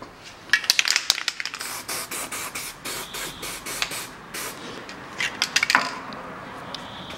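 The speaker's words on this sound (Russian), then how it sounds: "Смазываю болты." Aerosol lubricant sprayed in short repeated bursts onto the front wheel hub bolts of a 2007 Ford Ranger 2.5 turbo, with close hissing spurts and light metallic clicks between them, no talk.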